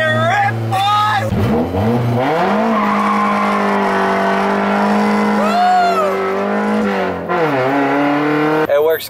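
A car engine revs hard while tires squeal and skid through long sliding turns as the car does donuts, with engine pitch rising and falling as the car spins.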